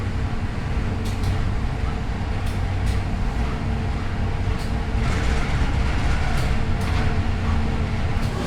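The Wijaya Kusuma passenger train from Cilacap rumbles into Bangil station with a steady, loud low drone and faint intermittent clicks, with no voices.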